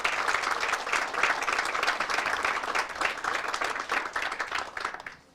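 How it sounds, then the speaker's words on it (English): Sustained crowd applause for volunteers at an outdoor 50th anniversary celebration at Arlington Echo, steady dense clapping throughout before fading at the end. "I'd like to give them a nice round of applause"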